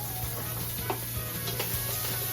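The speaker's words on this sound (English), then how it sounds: "So I'm gonna saute my veggies in here." Vegetables sautéing in a little leftover meat oil in a pan for sloppy joes, a soft steady sizzle with occasional faint stirring scrapes and clinks, close by, no talking.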